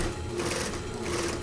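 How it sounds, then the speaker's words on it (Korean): A sewing machine runs steadily while stitching the hem of a shirt during a length alteration, giving a continuous, close, loud mechanical whir with no talk. "박음질 합니다."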